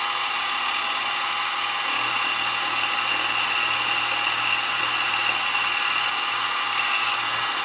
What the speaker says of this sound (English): we're just going to mill this out and